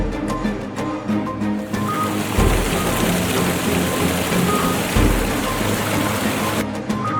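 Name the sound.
storm with heavy rain outside a prison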